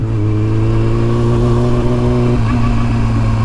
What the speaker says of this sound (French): Tout le monde a des pick-up ici en campagne.